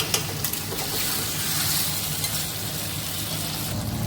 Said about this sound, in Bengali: এবার এগুলোকে আমি ভালো করে মিশিয়ে নিয়ে দিয়ে দেব গুলিয়ে রাখা কর্নফ্লাওয়ারটা